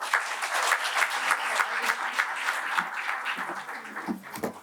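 Audience applause at a staff excellence awards ceremony, a sustained wash of many hands clapping at moderate volume, easing slightly toward the end.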